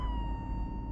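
A police car siren in Euro Truck Simulator 2 wails in a steady, loud tone over a low engine rumble for just under a second.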